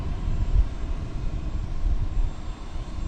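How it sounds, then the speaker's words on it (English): An American Airlines Boeing 737-800 arrives at DFW airport, a steady low rumbling roar of jet engines heard from a distance, no speech. "We've got American Airlines Flight 2261 from St. Louis coming in. It's a 737-800."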